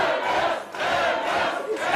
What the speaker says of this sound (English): The crowd are losing it.